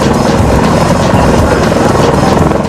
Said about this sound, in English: During the maneuver, the copter's rotor blades subject the Marines on the ground to hurricane-force winds.